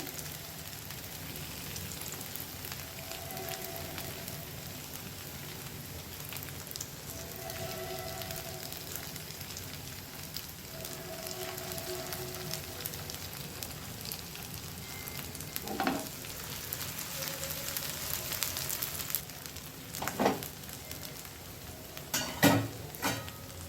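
Thin slices of a spinach snack fry crisp in hot oil, a continuous rain-like sizzle with occasional spoon clinks and scrapes growing louder toward the end, close up and without speech.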